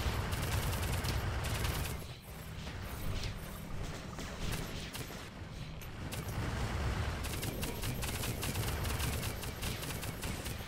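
A personal turret fires in Global Agenda gameplay, with rapid, continuous mechanical gunfire rattling at a steady loud level amid clanking mechanisms and brief lulls.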